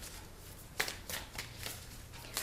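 A Moonology Oracle card deck is shuffled by hand nearby, a quick series of soft riffling bursts and card slaps, fairly quiet, with no talk.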